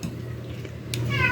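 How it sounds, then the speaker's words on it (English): A house cat meows once near the end, a short tonal call rising over a low steady indoor hum, fairly close and moderately loud. "And if y'all hear a noise, that's my cat, Tinkerbell."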